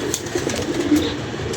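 Soft, low cooing of pigeons with newly hatched chicks murmurs steadily throughout, fairly close, with a faint hiss of background noise and no talking.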